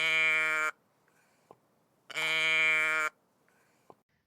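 Sheep bleating from a flock of about forty: two long, loud, buzzy bleats, each lasting around a second, separated by quiet gaps with faint clicks.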